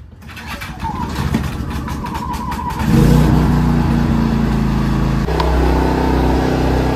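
A Max Pedding Rod 3500 watt portable generator, choked and fuelled, cranks and then catches, its small engine settling into a loud, steady run that holds close by to the end.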